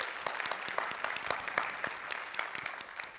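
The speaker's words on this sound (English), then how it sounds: "Big applause to you." Audience applause fills a conference keynote hall in Helsinki, a steady wash of many hands clapping with dense, irregular sharp claps, moderately loud and continuous with no talk over it.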